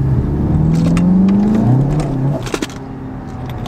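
A Seat Leon Cupra 280 fitted with a new induction kit revs up in a rising, then falling engine sweep, with a sharp intake whoosh and brief clicks as the throttle drops back to idle.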